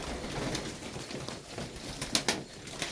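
Pigeons in a loft, with soft cooing and rustling close by and a couple of brief, sharp wing flaps or scuffles near the end; quiet overall with no talk.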